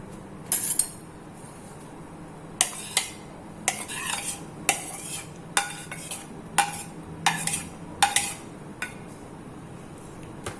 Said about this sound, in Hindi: ऐड करने के बाद इसे अच्छे से आपने मिक्स कर लेना।